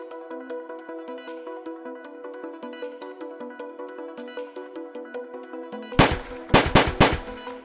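Gunshots in a visual novel video game: a burst of several loud, sharp shots cuts in abruptly over steady melodic background music near the end.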